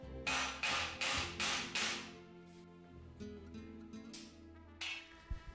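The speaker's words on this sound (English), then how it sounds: "All you have to do is stick that rivet down into that notch and tap it together." Metal shelf rivets being tapped into beam notches on food rotation shelving: five quick ringing metallic knocks in a row, then fainter scattered taps and clatter nearby.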